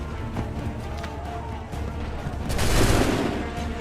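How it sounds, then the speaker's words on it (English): Musket volley in Assassin's Creed III, a short battlefield scene where a rumbling mass of shots swells toward the end over a noisy game background. "Open fire!"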